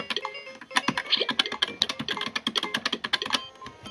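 Rapid typing on a laptop keyboard, a dense irregular stream of close key clicks and taps, fairly quiet and alone with no talk.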